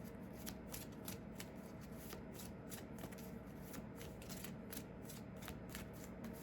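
A 36-card deck is riffled over and over in a quick, steady rhythm of crisp flutters, close up and continuous.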